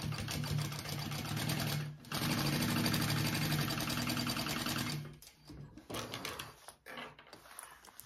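A sewing machine stitches a crossbody bag in long steady bursts, loud and close, with short pauses between runs and some handling noise toward the end.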